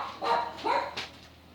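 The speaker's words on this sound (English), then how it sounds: "Sorry about my little dogs barking in the background." Small dogs let out three short barks in the background of a room, moderately loud and spaced evenly apart.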